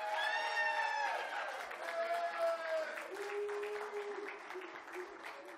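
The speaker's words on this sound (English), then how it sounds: "would you please give him a round of applause?" A church congregation applauds throughout, steady and fairly loud, with raised voices and cheering mixed into the clapping near the start before it settles into even applause.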